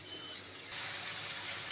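Potatoes and eggplant are added to hot spice paste and fry in a pan, giving a loud, steady hiss and sizzle with no talk.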